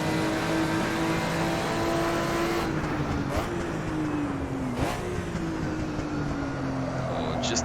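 A Porsche 935 Moby Dick race car in the Assetto Corsa racing game gives a steady, loud engine drone. Its pitch sags and rises through slides and an upshift.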